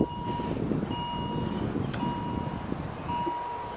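A Jeep Compass Limited Edition power tailgate closes after a button press, with a repeating electronic warning beep sounding at intervals over the low hum of the motorized liftgate, heard close by with no talking.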